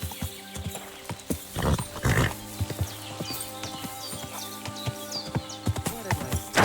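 A horse trots in the medieval video game Kingdom Come: Deliverance II, its hoofbeats clopping in an uneven rhythm with a snort and faint whinny, set against a soft, sustained musical backdrop.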